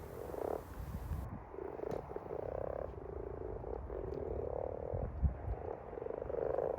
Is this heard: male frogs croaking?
yes